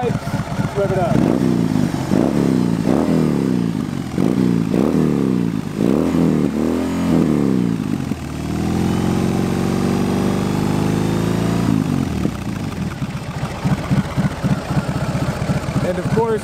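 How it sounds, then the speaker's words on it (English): A 2022 BMW R 18 Transcontinental big boxer engine idles with a deep exhaust note, then revs in several rising and falling blips before settling back to a steady idle, loud and close. "Get a little bit of a whir, nice deep sound from the pipes, rev it up."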